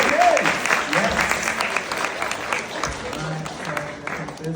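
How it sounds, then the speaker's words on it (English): A group claps for child volunteers during a rocket science demonstration at a London science museum, a modest patter of applause with voices talking over and around it. "A big round of applause for the other kids."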